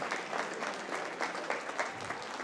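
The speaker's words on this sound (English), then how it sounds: "They get a nice applause from the crowd." A crowd applauds at a high school football game on a cool November evening, soft, fairly distant clapping that rises and falls in patter-like waves.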